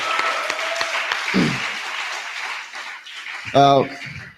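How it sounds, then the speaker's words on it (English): An audience at a resistance rally convention claps in a dense, steady patter that tails off, while a voice speaks over it and a short sung or called tone rises near the end. "can we give a round of applause for African people being African?"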